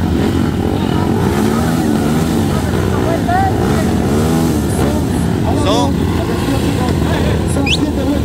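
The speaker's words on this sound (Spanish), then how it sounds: "Están ahí ya calentando motores." Motocross motorcycles idle and rev their engines at the start line of a race in Unión Progreso, Ayacucho; a steady engine drone with rising revs under a Spanish-speaking announcer.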